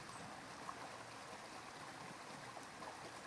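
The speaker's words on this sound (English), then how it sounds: "but just simply the water running" A gentle stream runs steadily in a soft, continuous wash of flowing water, faint and even throughout with no voices.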